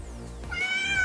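A cat perched on a person's shoulder meows close by, a single drawn-out meow rising in pitch, heard alone with no talking.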